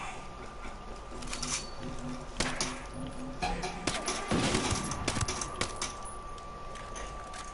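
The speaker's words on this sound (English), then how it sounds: "there was a gunshot in the distance and it sounded like a high caliber rifle" High-caliber rifle fire rings out in the Ghost Recon video game as several sharp, scattered shots over faint background ambience.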